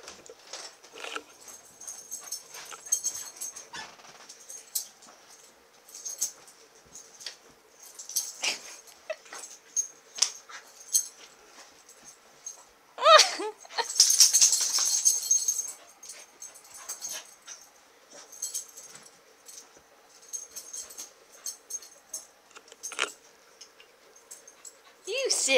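A dog fresh from a bath whimpers and yips in short, scattered bursts indoors, with a louder stretch around the middle and a running fan or household hum beneath.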